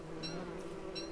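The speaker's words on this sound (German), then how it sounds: "Einfach ein bisschen verarschen, die Bienen." Bees in the survival video game Don't Starve buzz with a steady, close, insect-like drone that holds evenly across the whole moment with no talk.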